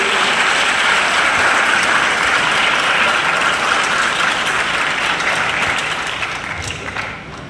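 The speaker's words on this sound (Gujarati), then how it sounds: "સ્વાગત થાય ત્યાં તાળીઓ પડવી જોઈએ." An audience claps steadily to welcome a guest at a village ceremony, a dense and fairly loud round of applause that holds for several seconds and then tapers off at the end.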